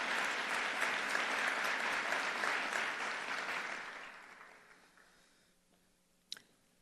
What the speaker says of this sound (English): if you could please give the Human Rights Department staff a round of applause